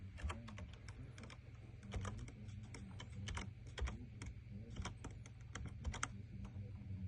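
Quick keystrokes on a computer keyboard as a pairing code is entered for a Zoom Rooms connection, a run of light, close clicks in irregular bursts over a low steady room hum.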